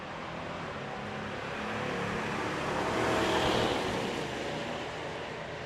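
A drag-racing hot rod and a Buick accelerating side by side down the strip at a mountain race week, a steady loud engine roar that swells and peaks midway before easing slightly.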